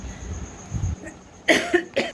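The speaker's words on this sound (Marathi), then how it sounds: "हलकासा असा खोकला वगैरे आहे" Two or three short, sharp coughs close to the mic, following a brief low rumble, with quiet pauses between them.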